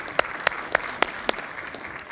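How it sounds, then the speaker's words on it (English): Applause at a health forum, heard as about five sharp, evenly spaced claps from a few hands over a quiet room hum, fading out after the last clap. "A round of applause, please."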